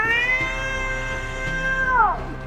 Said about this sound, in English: I think it's a cat, boss.